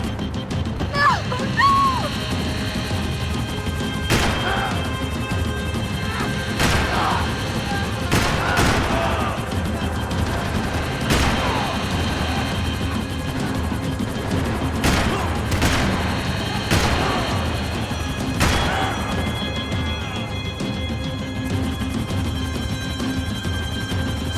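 Gunfire in the video game Max Payne 3 during a chase, with repeated sharp shots scattered across a steady rumbling backdrop, some bursts close together and loud over the engine-like drone.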